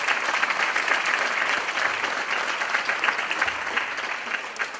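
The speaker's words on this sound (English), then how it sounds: "recognize the retired members of our department and our family with a large round of applause" A large round of applause at a department ceremony honoring retired members and their families, steady dense clapping from a crowd that holds at an even level throughout without tapering.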